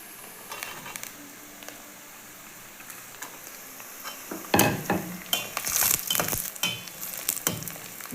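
Vegetables dropped into a hot pan for Tamil-style egg pasta (egg macaroni) hiss and sizzle, starting quietly and growing louder and busier after a few seconds, with bursts of spattering and faint clinks of a utensil stirring.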